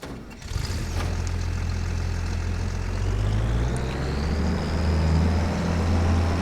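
A combine harvester engine in Farming Simulator 25 runs steadily at a loud, low idle-like rumble, rising slightly in pitch partway through, with no talk over it.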